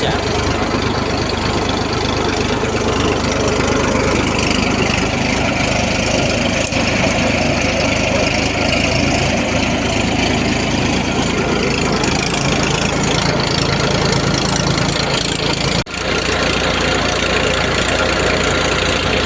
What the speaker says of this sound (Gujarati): મારા બાપાએ ટ્રેક્ટર ઊભું રાખી દીધું